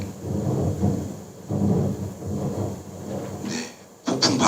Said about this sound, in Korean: 폭풍 바람이 불고 있죠